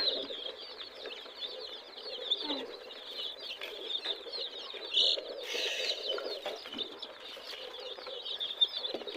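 Young deshi and Fayoumi chicks peck at their feed, with constant soft high cheeping and chirping and light pecking and rustling close by, no speech.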